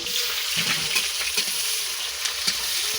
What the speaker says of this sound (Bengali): পেঁয়াজের ব্রেস্তা ভাজছি